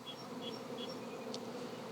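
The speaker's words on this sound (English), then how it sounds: "I'm waiting as the bees buzz and hum to recover from a cataclysmic upheaval that I gave them" Honeybees from a drone-laying colony buzz and hum steadily after being shaken out of their hive, a dense continuous drone close by with a few brief higher whines from individual bees passing near.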